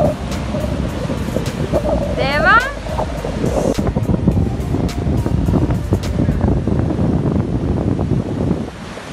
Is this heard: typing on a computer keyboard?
no